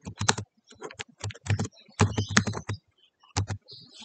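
Close, crisp keystrokes on a computer keyboard come in quick bursts and short pauses as a Google Chat status is typed.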